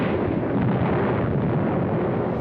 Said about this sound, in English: Some 200 yards forward, they encountered mines and automatic fire from pillboxes